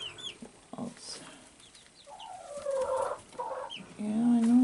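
Young chicks, including buff Brahma and Golden Laced Wyandotte breeds, peep in a run of thin high chirps that grows louder toward the end, with a few faint background sounds.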